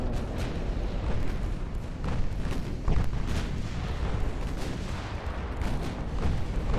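Naval gunfire from 8-inch guns in the warship game Ultimate Admiral Dreadnoughts forms a dense, steady roar of booming shots and rumbling blasts, with sharper reports that keep breaking through.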